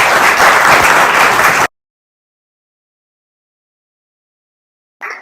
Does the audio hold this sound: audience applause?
yes